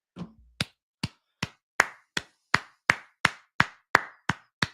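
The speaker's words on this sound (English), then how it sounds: "Round of applause for the people." Applause during a late-night UFC predictions live stream, heard as about a dozen single sharp claps in a slow, fairly even rhythm, close and clear, with no voices.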